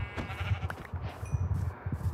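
Minecraft sheep bleating several times in quick succession, nearby and fairly faint, over low rhythmic game sounds.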